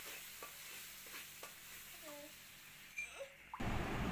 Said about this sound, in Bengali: আবারও কষিয়ে নেব।